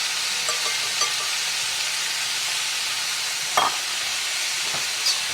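Mushrooms and onions frying in a pan over medium heat, a steady close sizzle with a few light clicks of stirring and no talk.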